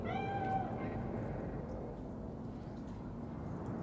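A cat meows in the game Cyberpunk 2077, one drawn-out tonal call near the start fading into a steady low ambient hum of the game scene.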